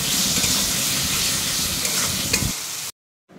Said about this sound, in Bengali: তারপরে ছোটো ছোটো করে যে আলুগুলো ভেজে রেখেছিলাম সেই আলুগুলো দিয়ে ভালো করে একটুখানি কষিয়ে নিচ্ছি।